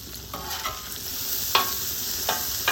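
Onions and mushrooms fry in bacon grease, giving a steady close sizzle broken by a few sharp clicks and scrapes of stirring.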